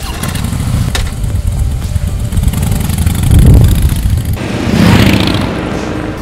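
A motorcycle cruises along the NH75 highway in Karnataka toward Sakleshpur, its engine giving a steady, close drone mixed with wind rush that swells louder twice near the end.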